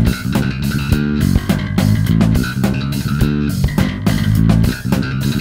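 Funky bass guitar triplet line, about 105 beats per minute, played loud and continuous inside a dense full-band mix with punchy percussive hits.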